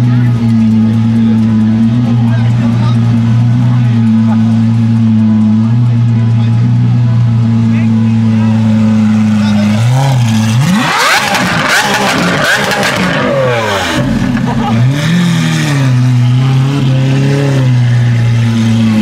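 An SVJ supercar on Broadway holds a loud, deep idle, then revs hard and roars past up close, its pitch climbing and falling before it settles again, with voices nearby.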